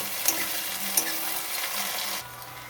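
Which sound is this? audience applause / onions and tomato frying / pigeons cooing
onions and tomato frying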